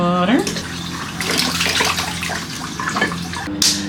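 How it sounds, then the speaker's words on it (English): Water runs from a tap in a home kitchen with a steady splashing gush filling a container, with voices and small clatter over it. "So let's put some water."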